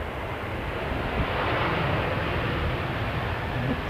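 A Qantas airliner touching down gently at Essendon Airport, heard as a steady, loud broadband engine roar with wind-like rush that holds level throughout, without any distinct thump.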